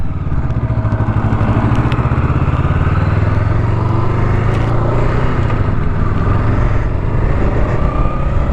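A 2019 Honda Rebel 500 motorcycle rides along with a loud, steady engine drone and wind rumble, the throttle held fairly constant throughout.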